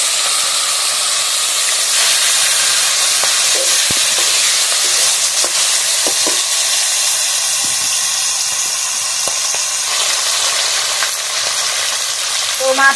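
Hilsa fish heads frying in hot oil with turmeric and salt, a loud, dense, continuous sizzle and crackle with scattered pops and spatters throughout, no talking.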